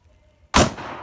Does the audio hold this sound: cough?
no